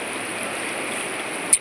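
A river streams steadily beside a wild campsite, a constant broadband rush of flowing water with one brief sharp click near the end.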